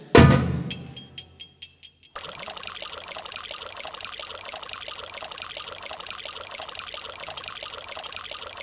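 A waterfall rushes and gurgles. A few splashy bursts open into a continuous, even stream of falling water that fills the scene at close range.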